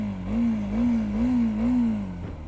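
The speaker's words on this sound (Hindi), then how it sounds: "आपको इससे एग्जॉस्ट का साउंड अगर आ रहा होगा तो आप सुनिए कैसा एग्जॉस्ट है" A TVS Apache RTX 300 adventure motorcycle's exhaust note, heard close as the engine rises and falls through several gentle revving swells, a steady low drone with a throaty rumble underneath.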